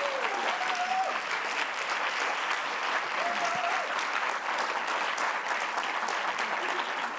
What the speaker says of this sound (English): One more round of applause, please, for all our incredible recipients.